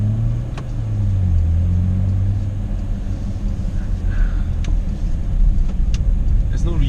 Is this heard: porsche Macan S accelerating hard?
yes